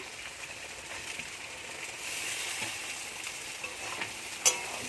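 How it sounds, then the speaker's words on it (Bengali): Soft, steady sizzle of bitter gourd frying in fish oil in a pan, with occasional stirring scrapes and a small clink near the end. "এ দেখুন এদিকে উচ্ছেটা ভাজা হচ্ছে"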